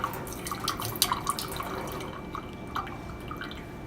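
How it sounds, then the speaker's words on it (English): Water rinses a laboratory refractometer in a clinical lab, with faint irregular drips and light splashing close by over low background noise. "Next, what you're going to do is you're going to rinse off your refractometer for the blood."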